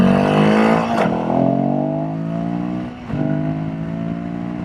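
A Royal Enfield Himalayan 452 motorcycle accelerates on a highway, its engine note climbing steadily in pitch, dropping briefly at two gear shifts, then rising again, close and loud with wind noise underneath.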